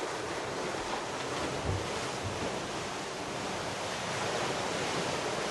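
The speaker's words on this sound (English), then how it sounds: "It's quite lumpy with quite big waves rolling past." Broadband wind and rough, lumpy sea with big waves rolling past a Nautitech 40 sailing catamaran on an offshore passage: a steady, loud roar of rushing wind and surging water, with no voices.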